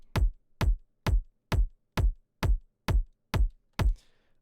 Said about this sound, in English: And yeah, the kick alone sounds like this